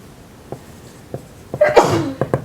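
A single loud, close sneeze bursts out after a few quiet clicks and sniffs, followed by a couple of short sharp taps.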